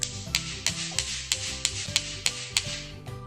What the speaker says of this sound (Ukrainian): Я візьму камінці і постукаю один об одний.